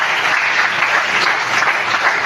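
A church congregation applauding together, a steady dense wash of clapping hands that fills the space continuously with no breaks or voices standing out.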